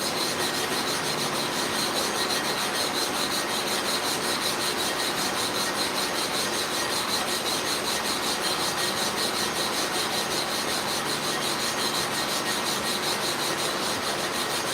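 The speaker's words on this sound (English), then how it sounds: "Now we're just going to make an even coat of the abrasive on the plate." Abrasive compound being rubbed into an even coat across a clipper blade sharpening plate, a steady, gritty scraping rasp that runs unbroken and close for about fifteen seconds with no talking.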